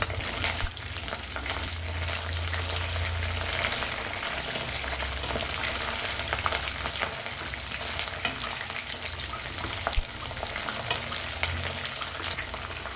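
Chicken 65 fries in a pan with green chilies and curry leaves, a continuous crackling sizzle with sharp pops and bubbling, close and fairly quiet, running steadily without talk.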